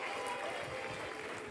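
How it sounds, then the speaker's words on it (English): An audience at the Wilmington Library's Dancing With The Delaware Stars fundraising gala claps in a brief, dense burst of applause that sounds fairly distant and muted. "Give Morgan a round of applause."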